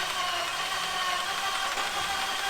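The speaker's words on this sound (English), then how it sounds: "We are having this really elongating crank. It actually isn't even going fast." A 2004 Volkswagen Passat 1.8 Turbo with a no-start fault cranks slowly and steadily without firing, a continuous even starter drone heard up close.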